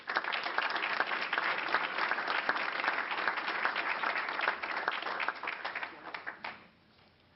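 An audience at a school board of education meeting claps steadily in a sustained, even round of applause that fades out near the end, heard through a somewhat muffled, narrow-band recording.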